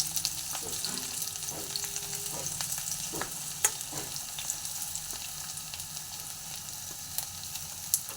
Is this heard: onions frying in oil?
yes